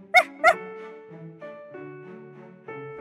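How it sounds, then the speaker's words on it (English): Two quick, close puppy yips, followed by soft high whining tones that fade out. "Pup barks."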